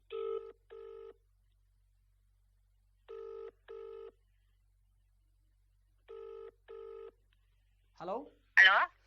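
Touch-tone keypad dialing for a live phone call from a Telangana TV news channel in Hyderabad: three clear pairs of crisp beeps, spaced evenly apart, followed at the very end by a short burst of voice on the line.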